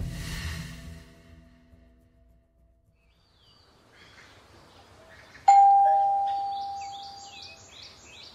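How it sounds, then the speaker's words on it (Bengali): A house doorbell chimes once, loud and close, with a bright electronic ding that rings out and slowly fades, after a quiet stretch. "calling bell বাজাতেই"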